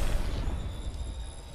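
Grenade explosion in the battle royale game Apex Legends, a dense, rumbling blast that stays loud and sustained throughout with no speech.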